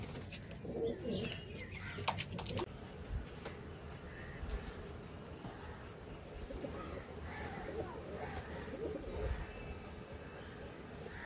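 Pigeons coo steadily at a pigeon loft in Munsirhat, Howrah, with soft overlapping calls throughout and faint voices in the background.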